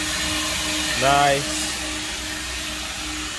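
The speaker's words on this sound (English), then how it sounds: "So you probably could hear the vacuum in the background" A vacuum cleaner hums faintly and steadily in the background while a 2022 Chevy Malibu LT is cleaned, a low constant drone under a brief spoken remark.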